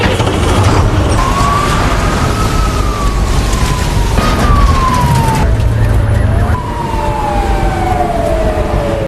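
A fire engine siren from a dramatized film about a school bus trapped in a fire wails loud and steady for the whole stretch, its tone sweeping down repeatedly over rumbling traffic and road noise, with no talk.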